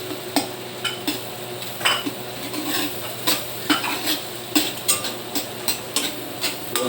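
Chopped onion and garlic sauté in melted butter, a soft sizzle running underneath as a spatula scrapes and stirs the pan in a regular rhythm of sharp, close strokes.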